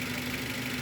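A Toyota Avanza G engine idles steadily, a close, even hum with a constant low tone and no change in revs over a brief moment.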